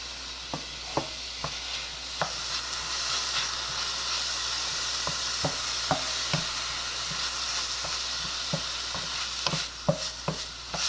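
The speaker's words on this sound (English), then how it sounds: "So we're going to saute this for a couple of minutes." Onions, mushrooms and garlic sauté in a pan on the stove, a continuous sizzling hiss with regular sharp scrapes and taps of a utensil stirring, close and without talk.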